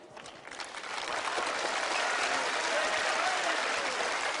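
Tennis crowd applauding Robredo's effort during the ATP Shenzhen final against Murray, clapping that swells after the first second into sustained, even applause from a distant stadium audience.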